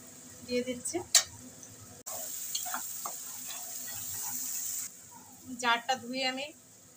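Spices hit hot oil during tempering for a Bengali masala pomfret dish. Bursts of sizzling and frying come and go alongside stirring, with someone talking over the cooking.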